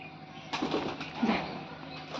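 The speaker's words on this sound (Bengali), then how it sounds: "সব পায়রা একা করে চলে গেল দেখো কত সুন্দর লাগছে" Pet pigeons take off together in a short burst of flapping wings, close and fairly soft, lasting about two seconds with faint background hum.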